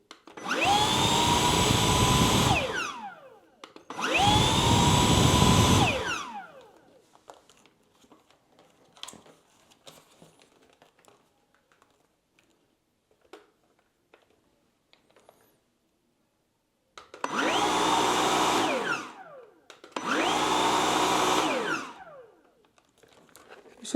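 A Samsung Jet 75 cordless vacuum cleaner with its spinning brush head runs in four loud whirring bursts of a few seconds each, two early and two late, separated by quiet stretches.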